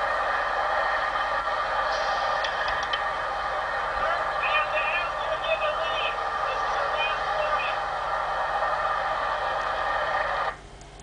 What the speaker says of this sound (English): Hard to understand what he says with the traffic noise in the background